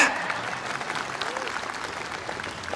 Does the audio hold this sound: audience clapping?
yes